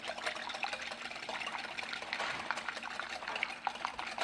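One large egg whisked briskly in a bowl for a chocolate pudding cake, a continuous close wet rattle of fast strokes with faint clicks against the bowl, steady and unbroken.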